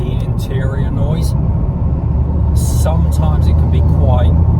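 Road and engine rumble inside a moving Ford Fiesta ST180, a constant low drone filling the cabin while someone talks over it.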